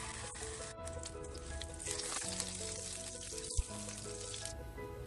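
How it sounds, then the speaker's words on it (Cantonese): Chicken fat sizzles steadily in a hot wok, a dense continuous frying hiss with small crackles and one sharp clink partway through, close and alone. "熱鑊落雞油"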